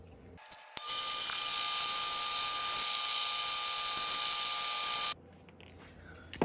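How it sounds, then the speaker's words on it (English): A high-pitched power drill whines steadily for about four seconds, boring holes through small metal blades, then cuts off, leaving quiet room noise. "I'm going to drill these out before I cut them"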